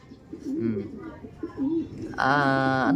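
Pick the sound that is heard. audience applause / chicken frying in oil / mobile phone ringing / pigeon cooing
pigeon cooing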